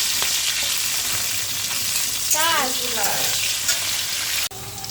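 Potatoes frying in hot oil in a pan with nigella seeds, dried red chilli and green chillies: loud, close crackling sizzle with a brief tonal scrape from stirring, ending in an abrupt cut.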